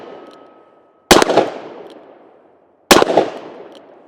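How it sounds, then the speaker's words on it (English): A Smith & Wesson 686 Competitor revolver fires two sharp, loud shots about two seconds apart, each followed by a ringing decay outdoors, with no talking. "Let's go ahead and take a few more shots with it."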